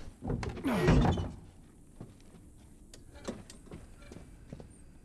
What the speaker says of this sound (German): Und du machst die Tür zu.